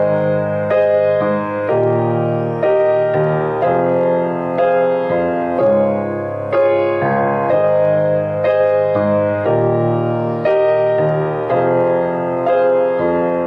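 Solo piano plays a section of a song twice through: rhythmic chords with a melody on top, even and prominent, with no voices.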